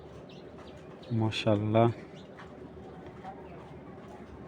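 Madrasi Giribaz racer pigeons cooing in a loft, a short run of low, throaty coos close by, with someone speaking briefly over them.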